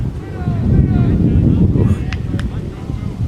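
Strong wind buffets an outdoor ultimate frisbee field during a UK league match, a steady low roar against the microphone beneath a commentator's voice, with faint distant calls from players.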